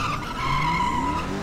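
A police car in GTA V skids after a PIT maneuver, giving a loud, sustained tire squeal that slides in pitch over about a second.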